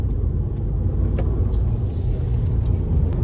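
A 2022 Ford Expedition SUV in sport mode with all-wheel drive, accelerating, heard from inside as a steady, loud low engine and road rumble without a break, with no talk.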